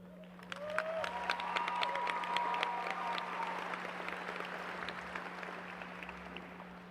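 A large graduation ceremony crowd applauds in a big hall, dense sustained clapping that fades slowly, with a few whoops and a steady background hum.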